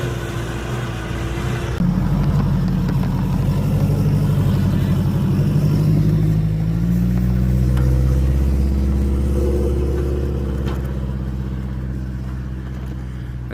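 Tractor engines idle and rev at a snoek fishing derby boat launch, a loud continuous low mechanical drone whose pitch climbs and shifts about midway. Faint voices sit beneath the engine noise.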